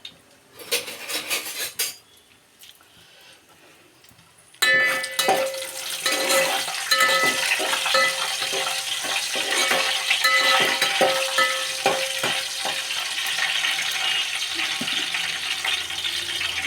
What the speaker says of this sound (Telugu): ఇప్పుడు వేసుకుంటున్నానండి. జీలకర్ర, చిన్నుల్లిపాయ, ఎండుమిర్చి